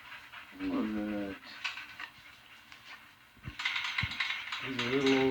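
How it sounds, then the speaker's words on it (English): A young game-bred dog, a little over a year old, pants rapidly close up with a few brief whimpering whines mixed in, while a person briefly speaks nearby. "That's my dog Lobo."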